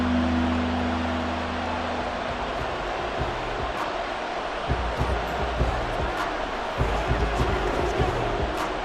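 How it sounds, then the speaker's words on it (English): Stadium crowd noise from a Madden 24 football game between the Rams and Colts, a dense continuous roar late in the fourth quarter, with a commentator's voice over it at the start. "This crowd turning up the decibel level."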